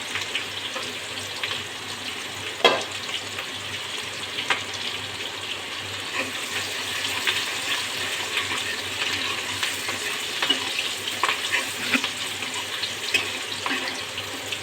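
Sliced onion and slit green chillies fry in a pan, giving a steady soft sizzle and crackle that runs unbroken at low volume with no speech.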